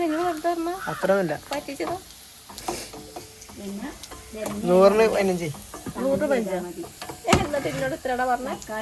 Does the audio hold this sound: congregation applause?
no